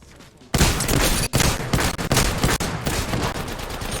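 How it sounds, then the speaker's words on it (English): Wingman pistol fire in the video game Apex Legends, loud and close, beginning abruptly after a quiet moment and then continuing as a dense stretch of gunfire with a few brief gaps. "gotta have the worst wingman shot in A."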